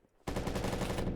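Automatic gunfire in the video game BRM5 starts abruptly after a short silence as a rapid burst of close shots.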